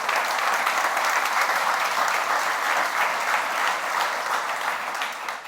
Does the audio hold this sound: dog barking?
no